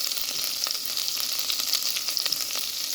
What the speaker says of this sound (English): Just going to melt that butter.